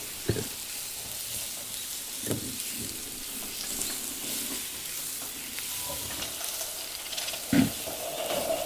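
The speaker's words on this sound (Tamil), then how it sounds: "கிழங்கையும் நல்லா எண்ணெயில் வதக்கி எடுப்போம்." Potato pieces fry in oil for an eggplant and potato kuzhambu, giving a faint, steady sizzling hiss with a few soft knocks from the pan, heard alone with no voices.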